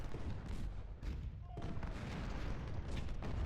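Artillery and massed musket fire from a Civil War battle in the game Ultimate General: Civil War, a steady dense rumble of booms and crackling volleys filling the whole stretch, with faint voices mixed in.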